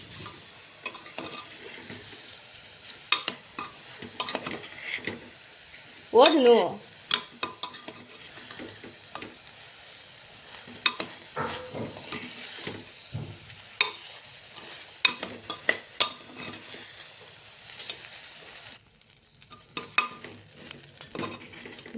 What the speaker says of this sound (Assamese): ভাজি হৈ যোৱাৰ পিছতে এতিয়া চাউলখিনি বহাই দিলোঁ